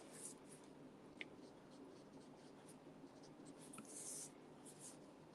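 A Daffodil Delight marker colors on paper at close range, giving a soft, steady scratchy rubbing with a few faint taps and one brief louder click, quiet throughout.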